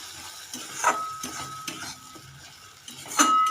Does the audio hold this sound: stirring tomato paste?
yes